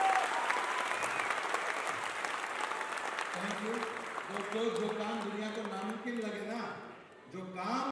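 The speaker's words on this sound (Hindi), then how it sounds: "आप अपनी जगह पे खड़े होकर एक बार जोरदार तालियां बजाएं इनके लिए" A crowd applauds loudly and steadily, the clapping thinning out as a voice begins talking over it near the end.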